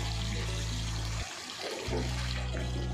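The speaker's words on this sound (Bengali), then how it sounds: "এবার আমি এই গরম জলটা এর মধ্যে একটু ঢেলে দেবো।" Hot water pours into a pan of simmering chicken curry with coriander, a steady rushing splash that briefly drops away and then resumes over a low background hum.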